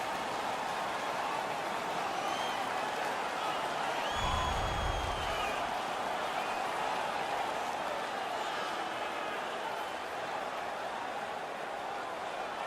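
A hockey arena crowd in the NHL 16 video game, Calgary against the Florida Panthers, roars in a steady, dense wash of cheering that fills the whole stretch, with a brief low thump partway through.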